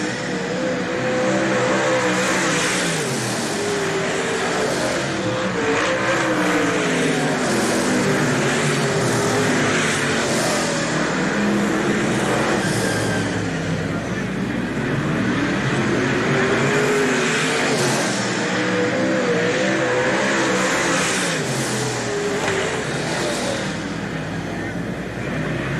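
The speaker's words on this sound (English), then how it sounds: "Kahn continues to run in front of 5 Smith as Cindy Peterson still holds the early edge." World of Outlaws late model race cars roar around a dirt track at Hales Corners, a dense continuous engine drone with rising and falling passes throughout, loud and sustained with faint announcer talk beneath.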